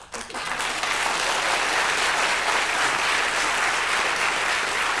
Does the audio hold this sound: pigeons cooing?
no